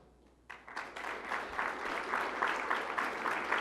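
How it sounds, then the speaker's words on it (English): A banquet audience breaks into applause after a short quiet start, and the clapping swells into a steady, dense round of hands that continues to the end. "please give them a round of applause"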